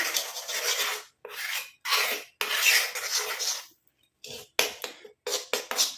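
Homemade hair dye paste being mixed in a bowl gives brisk scraping and rasping strokes in uneven bursts, loud and close, with short gaps between strokes.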